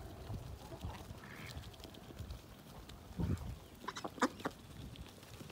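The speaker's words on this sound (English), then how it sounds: "I did put some more chickens in here." Chickens in an outdoor pen give soft clucks and a few brief calls against wind noise, faint and intermittent, with a slightly louder burst of calls near the end.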